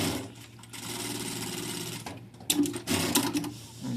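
A Juki 8000C industrial sewing machine stitches back tacks, a loud, fast, steady mechanical whir broken by brief pauses as the stitching direction reverses.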